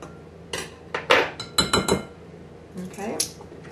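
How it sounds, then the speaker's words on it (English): Flour and baking powder are mixed in a bowl for raspberry scones, with irregular metallic clinks and scrapes of a utensil against the bowl and short pauses between strokes. "just going to mix that flour and the baking powder a little bit just so that it's mixed"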